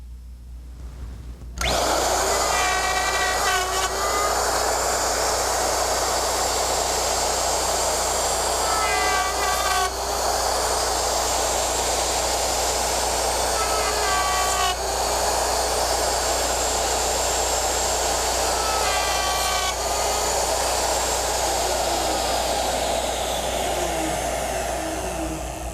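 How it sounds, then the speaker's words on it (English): A router cuts dovetail tails on the tail board, guided through the template fork slots of a Porter Cable Omnijig 5116 dovetail machine; a steady, loud motor whine runs throughout, with four recurring pitch dips as the bit passes through the wood. "you will carefully guide the router in the template fork slots to cut the tails on the tail board"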